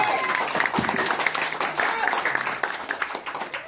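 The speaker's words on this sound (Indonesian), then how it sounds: "boleh kasih tepuk tangan." A press conference audience at the BCA Indonesia Open 2016 badminton event claps in a dense, fairly loud burst of applause, with some talk heard over the clapping.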